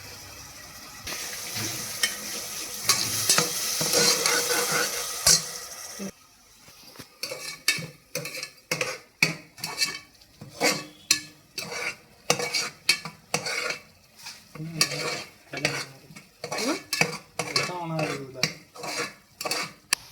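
Tomatoes sauté in a pan while a spoon stirs and scrapes, starting with a steady sizzle and then turning into a long run of sharp, repeated metallic clinks, close up with only faint voices.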